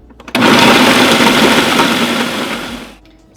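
Cauliflower florets blitzed into fine rice in a food processor: a sudden loud motor whir with rattling chunks that runs for about two and a half seconds, then winds down and cuts off, very close.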